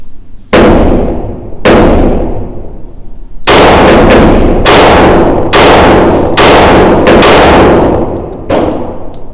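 A pistol fitted with a Radian Afterburner fires Federal 147 ammunition in sharp, loud, closely recorded shots, two spaced apart and then a quicker string of about six, each with a brief ringing decay.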